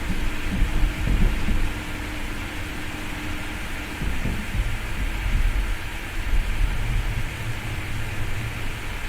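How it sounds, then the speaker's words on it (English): Steady pouring rain in the Train Sim World 5 game on the Zwolle route, a dense, even hiss of downpour that holds continuously throughout with a low rumbling undertone and no voices. "These poor people are standing in the pouring rain."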